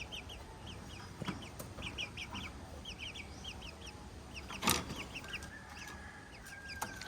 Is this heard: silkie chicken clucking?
yes